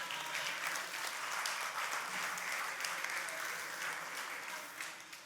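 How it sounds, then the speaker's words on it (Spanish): A church congregation gives a steady round of applause during a sermon, a dense, even clapping that fills the space and fades slightly at the end. "Gloria, dése un aplauso a usted mismo."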